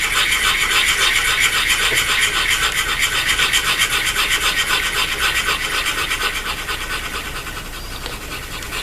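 A pointed calligraphy pen scratching over paper while drawing anti-clockwise circle drills with light pressure, a close, continuous rhythmic rasping that repeats with each loop and fades slightly near the end.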